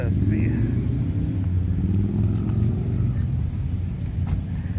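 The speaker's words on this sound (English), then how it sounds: "I don't know what kind of car this is" Exotic car driving past at a car show during Cruisin The Coast 2021, a loud low engine rumble that holds steady and slowly fades, with crowd noise and voices mixed in.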